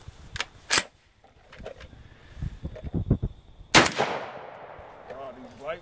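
A Saiga 12 semi-automatic shotgun fires outdoors with light loads, several sharp loud blasts at uneven spacing, the biggest one late, followed by a brief voice.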